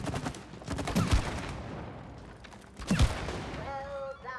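Gunfire in the co-op video game It Takes Two, a few quick bursts of shots at moderate level, spaced apart with a quieter stretch between and game effects trailing off.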